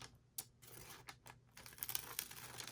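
Paper being cut for a junk journal page, with quiet broadband snips and crinkles in short bursts, fairly faint and close with no talking.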